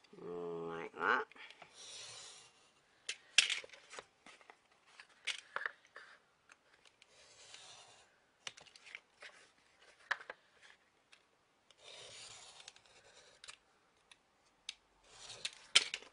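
Chipboard is cut for a mixed media bird house, a series of separate crisp snipping and crunching strokes in irregular bursts, close and fairly quiet, with a brief vocal sound at the start and pauses of near silence between cuts.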